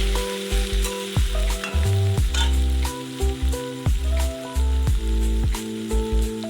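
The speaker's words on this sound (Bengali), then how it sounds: "পেঁয়াজটা বেশ একটু লাল লাল করে আমি ভেজে নেবো।" Onions fry in a pan until reddish for a mutton and potato curry, making a strong, close sizzle that pulses in repeated bursts as they are stirred, with no voices.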